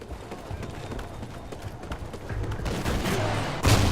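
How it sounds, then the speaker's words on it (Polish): Gunfire in the Call of Duty: Ghosts multiplayer game on the BayView map, scattered distant shots and bursts over footsteps and game ambience, growing denser toward the end. "Gdzieś tu strzelają."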